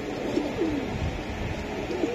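Soft cooing of Pakistani Teddy pigeons, a few low murmuring calls repeating over a steady background hum.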